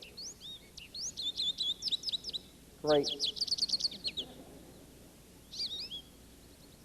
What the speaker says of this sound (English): we can hear the Washington state bird